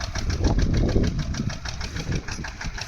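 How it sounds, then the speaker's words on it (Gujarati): A tractor engine runs in a peanut field with a knocking, pulsing beat that is loud and close and swells and then eases slightly as it works, with no talking over it. "આ રીતે ટ્રેક્ટર હાલતું હોય"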